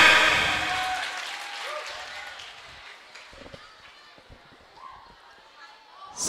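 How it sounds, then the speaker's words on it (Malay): A crowd at an Islamic religious gathering claps in a short loud burst that quickly fades into scattered claps, murmurs and faint voices, with a brief swell at the very end. "tepuk tangan"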